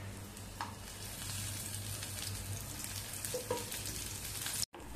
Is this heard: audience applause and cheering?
no